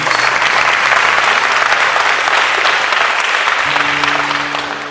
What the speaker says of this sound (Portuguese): Vamos aplaudir o Evangelho de Jesus.